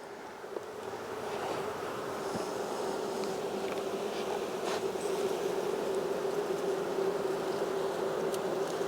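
Honey bees hum around an open hive during a beekeeping inspection, a steady, soft, continuous buzz with a faint droning tone and occasional louder passes of bees near the microphone.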